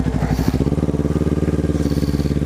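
A Kawasaki Ninja 400 motorcycle engine runs on a dyno, a loud, close, rapidly pulsing mechanical drone with a brief burst of noise near the start.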